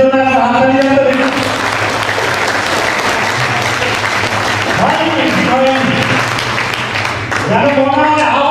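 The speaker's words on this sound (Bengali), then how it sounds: "এখন নিজেদের জন্য একটা হাততালি দেন তো দেখি।" Audience members at an RCM celebration program in a guest house applaud for themselves in a loud, sustained burst of clapping, with a speaker's voice heard before and after it.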